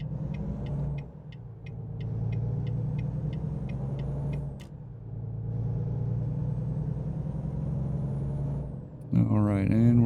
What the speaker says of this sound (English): Assuming this truck doesn't hit us.